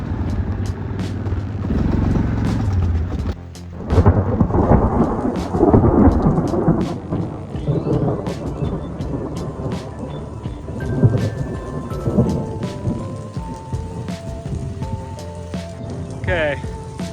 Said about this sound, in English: Might be hailing too.